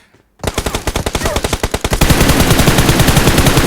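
Automatic gunfire in the video game PUBG Mobile: after a brief quiet start, a loud, rapid burst of shots that merges into continuous close fire until the end.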